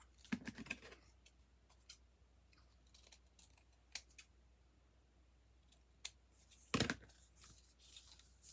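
Scissors snip a Dollar Tree wreath form during a spring birdcage craft, giving scattered close, sharp clicks and cuts, with a louder burst of snipping near the start and another near the end.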